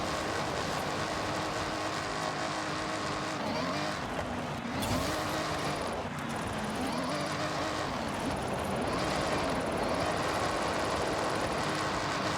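Rear-wheel-drive car in Forza Horizon 6 slides and skids with a steady droning engine, warbling tire squeals rising and falling, and a louder scrape partway through.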